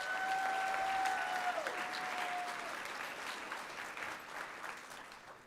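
Sustained audience applause at an awards ceremony, a dense wash of many hands clapping that holds steady for several seconds and slowly tapers, with a brief whistle-like tone early on.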